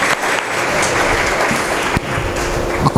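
An audience at a satsang religious gathering gives a speaker a strong round of applause, with many hands clapping in a steady, loud, continuous wash from start to finish.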